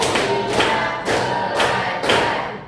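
A classroom of students at a career-guidance session joins in a rhythmic clapping game, with several sharp group claps landing in an uneven pattern. The claps are close and loud against a faint room hum.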